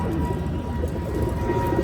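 A flock of pigeons at Dipok's house coos in a dense, continuous murmur, loud and close, with overlapping low calls and no talking.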